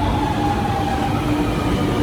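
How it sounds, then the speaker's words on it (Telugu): A Chennai metro train arriving rumbles steadily nearby, a continuous loud roar of wheels and motor with faint high whine, no voices. "అది మళ్ళీ వచ్చేసింది ట్రైన్"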